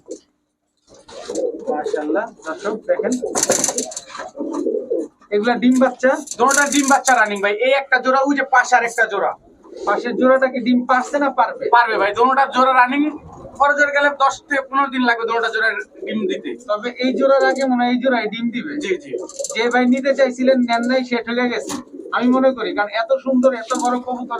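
Pigeons coo in a pigeon shop, soft rolling calls layered under close, nearly continuous talking by a man.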